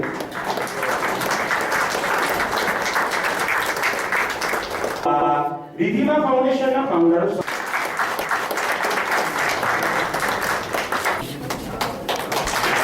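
Audience applause at a foundation's medical camp event welcoming a memento presentation, loud sustained clapping filling most of the stretch, briefly giving way to a voice on the microphone before the clapping resumes.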